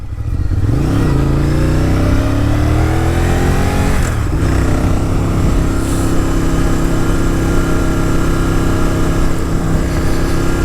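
A Honda VTR1000 Firestorm V-twin motorcycle on a test ride, its engine loud and close as it revs up through gears with rising pitch, a shift, then a steady droning pull.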